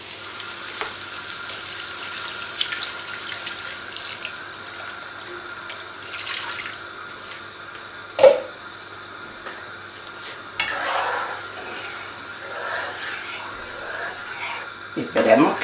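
Broth poured into a hot pan of squid fideuá gives a steady sizzling hiss with watery pouring and a few clanks, while a person talks over the cooking.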